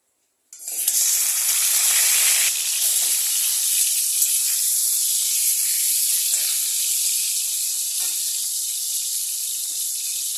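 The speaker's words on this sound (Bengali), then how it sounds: "তেল দিয়ে আমি মাছটাকে আগে ভেজে নেব।" Katla fish hits hot oil in a wok, setting off a loud, steady hiss and sizzle that starts abruptly and continues evenly, with faint crackles scattered through it.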